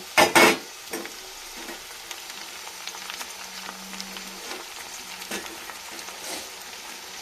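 Chili chicken with liver and gizzard, garlic, tomato and green chilies frying in a pan, stirred with a few loud scraping strokes at first, then softer occasional scrapes over a low sizzle.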